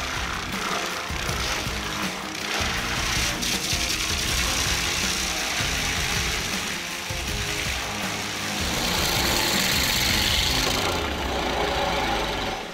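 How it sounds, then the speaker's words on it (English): A Vortex skid steer tree stump grinder runs steadily, a loud, rough engine drone with grinding, knocking texture that holds for the whole stretch and swells slightly near the end. "The power of this Vortex skid steer tree stump grinder makes tree root removal simpler and faster than"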